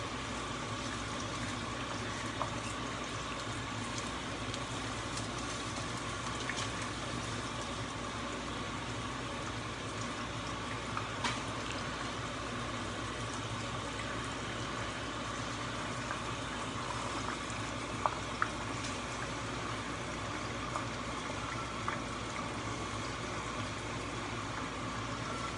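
Thinly sliced eggplant frying in hot oil, a constant even crackling sizzle held for a long stretch with scattered tiny pops, no voices.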